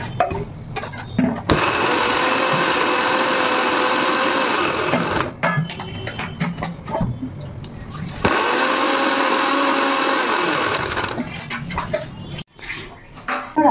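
A kitchen blender making juice, its motor whirring loudly and steadily in two long runs of several seconds each, separated by brief stops with small clunks and handling noises, close and without talk.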